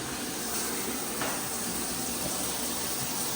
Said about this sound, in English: I think I turned on the shower